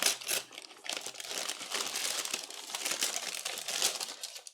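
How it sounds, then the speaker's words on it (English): Makeup product packaging for a mineral makeup line being torn open up close, a continuous busy crinkling and ripping of paper and plastic wrap with no pauses. "I'm just going to tear everything open."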